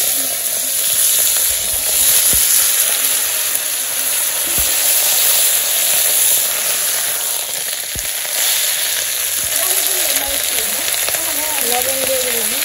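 Vegetables sizzle in hot oil in a simple village kitchen, a steady broadband frying hiss running throughout with occasional stirring clinks, while a person talks over it.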